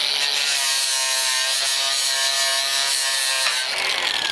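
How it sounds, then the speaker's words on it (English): A flap disc on an angle grinder grinds body filler off a swap-meet car dash in one loud, steady, high-pitched whine lasting several seconds, with no talking. "I'm going to take the flap disc and..."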